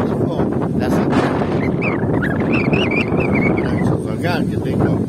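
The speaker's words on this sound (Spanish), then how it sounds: "Hoy está ventoso y está frío acá" Strong, cold wind at Plaza Virgilio in Punta Gorda buffets the microphone in a loud, steady roar, while a person speaks over it.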